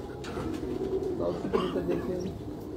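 Pigeons of the Heera Laal breed coo softly in a loft, low murmuring calls layered over faint background chatter and rustling, quiet and close.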